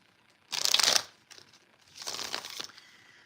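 Tarot cards are shuffled by hand in two brisk bursts of riffling and flicking, close and fairly quiet, with a short pause between them.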